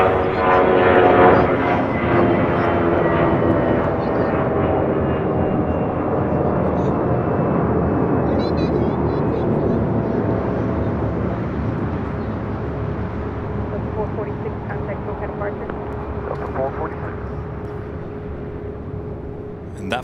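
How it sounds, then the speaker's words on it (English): Delta Air Lines flight 446 takes off from Los Angeles International for Austin, Texas, a strong jet roar loudest at the start and fading gradually as the plane climbs away, with talk over it. "that flight taken off was Delta Airlines flight 446 heading to Austin, Texas"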